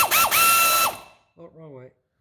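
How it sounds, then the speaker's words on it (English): A Harbor Freight air tool whines loudly at full speed for about a second, then cuts off and falls silent, followed by a brief mechanical warble. "these are just Harbor Freight air tools that I'm using here"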